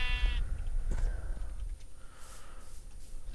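A sheep in the video game Minecraft gives one short bleat at the start, followed by quieter game ambience and faint soft thumps.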